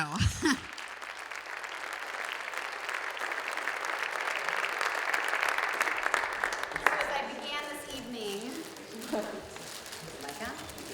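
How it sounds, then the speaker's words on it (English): Audience applause at a welcome presentation for an incoming class, a dense steady wash of clapping lasting most of the stretch, moderately loud, then fading as scattered voices and cheers take over near the end. "Round of applause for these two."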